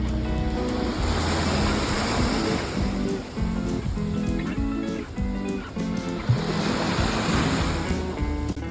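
Surf washing onto a beach behind Ngoc Hien Pearl Farm on Phu Quoc, Vietnam, a steady broadband roar of breaking waves with some wind buffeting on the microphone, continuous and fairly loud throughout.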